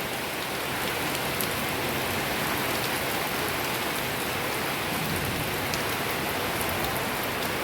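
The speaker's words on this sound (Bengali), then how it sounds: "ঝড়ও হচ্ছে, হালকা ঝড় হচ্ছে আর বৃষ্টি হচ্ছে।" Steady rain with a light storm, falling evenly as a continuous close wash of drops on surfaces with no break, no thunder and no voices.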